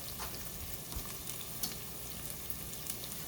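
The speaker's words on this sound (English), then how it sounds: "while those are sauteing up" Ingredients for broccoli cheddar soup sauté in a pot with a steady, close crackling sizzle and a few faint stirring scrapes. No one speaks.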